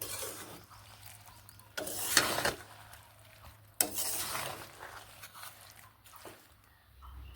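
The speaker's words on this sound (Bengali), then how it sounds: "এর সঙ্গে এইভাবে মিশিয়ে নিচ্ছি খুব ভালোভাবে মিশিয়ে নিতে হবে" Jujube pickle mixed with jaggery being stirred in a pot, with a few scraping, sloshing bursts of the spoon between quieter stretches of low simmering.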